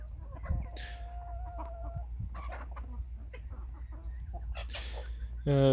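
Chickens cluck and chatter close by in a farmyard, with a short crow-like call and a loud squawk near the end over steady low background hum.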